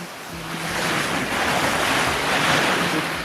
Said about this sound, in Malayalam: നല്ല ഫോഴ്സിൽ വെള്ളം ഇങ്ങനെ ഒഴുകിക്കൊണ്ടേയിരിക്കുന്നു.